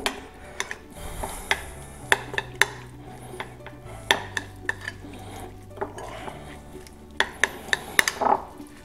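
A utensil stirs half the grated parmesan into a garlic mixture in a bowl for parmesan-garlic croutons, making a string of sharp scraping clicks and taps against the bowl at an irregular rhythm, close up with no talking.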